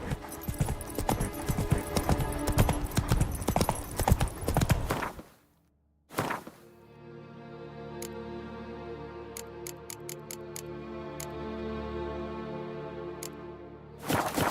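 Horse hooves gallop in The Witcher 3 video game, a dense rapid clip-clop that cuts off. After a brief gap comes a quieter stretch of sustained tones and sparse sharp ticks.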